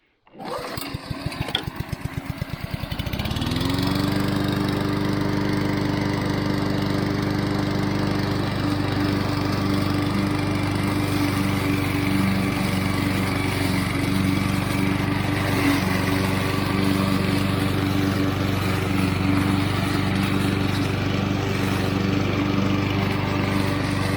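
A Honda HRC216 commercial walk-behind lawn mower starts with a quick pull and then runs steadily and loudly up close, its engine drone holding even for the rest of the stretch with no talk.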